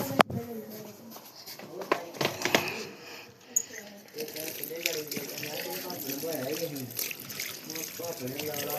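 Saag greens being washed in water, splashing, trickling and gushing in bursts with people talking over it.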